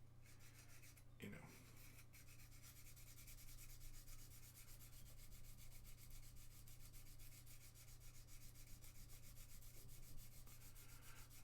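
Fine-grit sandpaper rubs steadily across a plastic gunpla model surface in a continuous, soft, even scratching, close up and faint, with one brief sharper scrape near the start.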